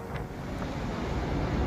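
Strong storm winds from Storm Fergus in Ireland roar as a steady, loud, broadband rush with a rumbling low end and no voices, sustained without breaks for the short stretch.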